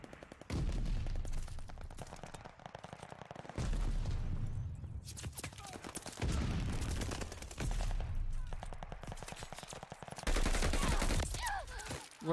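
Sustained automatic gunfire rattles in Call of Duty: Vanguard multiplayer, several loud machine-gun bursts broken by short pauses, close and dominant with a voice occasionally underneath.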